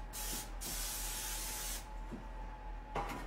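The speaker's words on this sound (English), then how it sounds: "I'm gonna spray my pan." Several short bursts of cooking spray hiss close by onto a baking pan, separated by brief pauses, over a faint steady background hum.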